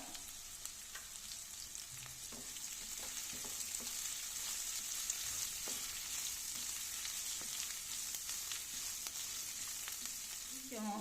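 Onions and slit green chilies fry in a pan, a soft continuous sizzle with occasional light stirring clicks, steady and fairly quiet throughout.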